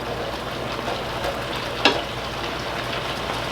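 Steady sizzling from a pan of beef heart browning, moderately close, with a single soft clink partway through.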